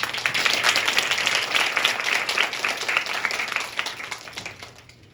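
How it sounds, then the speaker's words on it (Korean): A lecture hall audience gives the speakers a hearty round of applause, many hands clapping in a steady dense wash that holds for several seconds and then tapers off at the end. "마지막으로 큰 박수 부탁드립니다"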